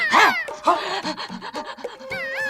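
A woman imitates a dog panting with her tongue out, giving a run of quick, rhythmic breathy huffs up close, with a few voiced sounds mixed in.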